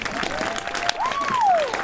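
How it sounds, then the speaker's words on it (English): Crowd applause for the Select Choir at a 2021 spring concert, continuous clapping throughout, with a sliding whoop or cheer rising over it near the end. "Let's give them another round of applause."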